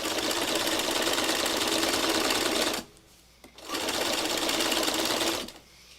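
A sewing machine runs loud and close while fabric is held taut, whirring in two steady bursts of about three and two seconds with a short pause between them.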